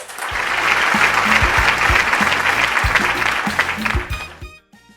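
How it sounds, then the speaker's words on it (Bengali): An audience at a school event applauds for a headmaster, a dense burst of many clapping hands, close and loud, that holds steady for about four seconds before quickly dying away. "মোবাশ্বের স্যারের জন্য একটা জোরে হাততালি"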